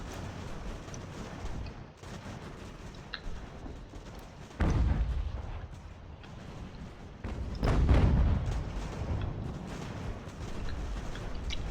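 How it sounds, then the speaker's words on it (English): Cannon artillery fire in the strategy game Ultimate General: American Revolution, a dense battlefield din with two heavy booming blasts standing out over continuous rumble and crackling musketry. "That cannon is really hurting us."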